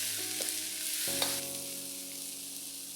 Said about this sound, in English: That's the onions, the ginger, and garlic, together with the carrots. Fry all this for about 30 seconds to a minute till they are fragrant.